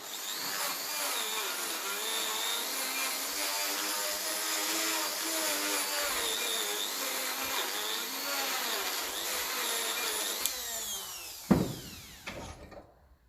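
Power drill polishing a part of a 1954 Ferguson TEF 20 diesel tractor's Ki-Gas pump, a steady close whine running for about ten seconds before it spins down, ending with a few clunks and rattles, with no talk.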